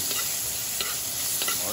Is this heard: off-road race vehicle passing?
no